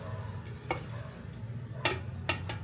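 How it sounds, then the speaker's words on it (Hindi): A spoon stirs besan batter mixed with chopped onion in a bowl, giving soft scraping swishes with a few sharper clinks against the side, close up over a low steady background hum, with no talking. "तो इसको हम अच्छे से मिक्स कर लेते हैं"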